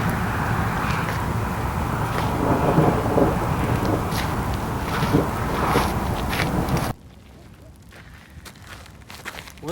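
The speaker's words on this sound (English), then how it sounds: "It is starting to rain a little bit" Monsoon storm rain over the Mojave Desert near Barstow, California, comes as a dense, loud hiss with scattered heavy drops for about seven seconds, then drops abruptly to a faint, sparse patter.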